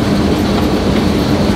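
A locomotive runs on rails with a dense, steady rumble and a continuous clatter of wheels on track, loud and close throughout, with no voices.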